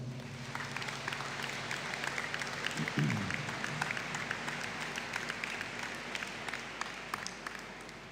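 A graduation ceremony audience at a Faculty of Science and Health event applauds a group of standing graduates with sustained crowd clapping, steady and moderately loud, with a faint room hum beneath.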